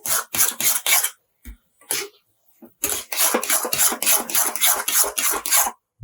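Wheat flour sheera (halwa) with dry fruits stirred in a pan, heard as a steady run of close, rhythmic scraping strokes that pause briefly midway before resuming.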